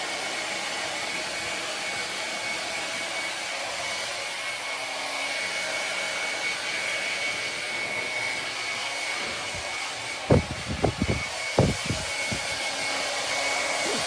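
A hair dryer runs steadily after a wet scissor cut, giving a constant, close whooshing roar throughout. Several short thumps and knocks come near the end, and no one speaks.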